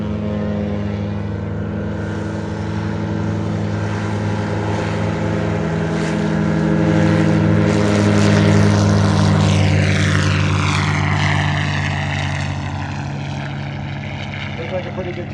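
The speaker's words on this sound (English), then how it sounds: "You kind of notice once it accelerates a little bit, the gear will lift, the whole airplane will just kind of lurch up" A STOL propeller airplane at the Valdez STOL competition takes off at full power, its loud, steady engine and propeller drone swelling to a close peak mid-clip, then easing slightly as it climbs away.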